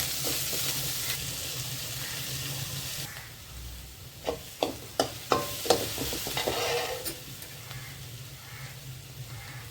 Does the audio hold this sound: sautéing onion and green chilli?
yes